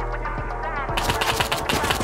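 A suppressed AK rifle firing in a video game, a quick rattle of muffled shots that swells partway through, with faint game ambience underneath.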